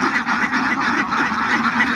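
Ducks on a duck farm during morning egg collection, a dense, continuous chorus of quacking from many birds close by, with no talking.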